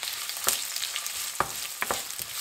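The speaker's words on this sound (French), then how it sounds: "je commence par mettre mon huile de sésame dans un wok. J'y ajoute les oignons, le curcuma et l'ail." Onions, turmeric and garlic sizzling in sesame oil in a wok, a steady bright frying hiss with occasional crackles and stirring scrapes, close and continuous.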